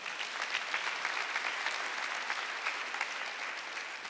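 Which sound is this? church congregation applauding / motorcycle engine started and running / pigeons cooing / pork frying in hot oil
church congregation applauding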